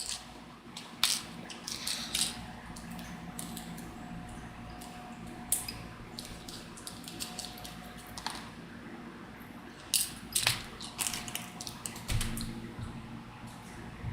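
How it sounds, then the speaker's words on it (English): Small screws left over from building a Fanhome Iron Man model clink and tap faintly as they are handled and put away, in scattered irregular clicks over a quiet room. "what I'm doing right now is I'm putting the screws away like I always do"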